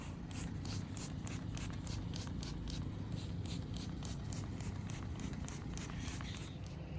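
Cleaner sprayed onto a gravestone in a cemetery, a steady run of short rhythmic hissing bursts repeating close by against a low outdoor background, with no talking.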